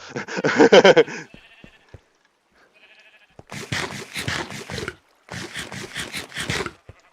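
Sheep bleat in Minecraft in short bursts, one loud and rough at the start, then two longer wavering calls after a pause, with faint clicks in between.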